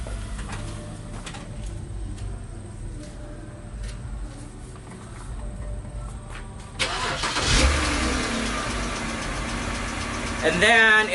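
A BMW 3 Series E92 starts by remote starter, a crank burst near the middle of the clip followed by steady nearby idling, with faint birdsong and outdoor ambience before it.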